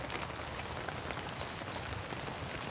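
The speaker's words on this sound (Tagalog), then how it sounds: "sino ba namang mag-aakala ng aga-agang umuulan?" Steady rain falls on a surface at a chili farm in the early morning, a dense, even hiss of drops with no voices.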